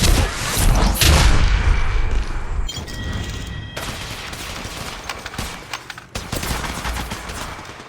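Rapid bursts of gunfire in the video game Apex Legends during a sniper-and-pistol-only match, loud and dense at first, then sharper separate shots and booms continuing at a lower level.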